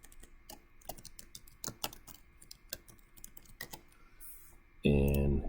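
Typing on a computer keyboard during a class example, with quick irregular key clicks and taps at close range, ending in a louder burst of sound; a voice speaks intermittently.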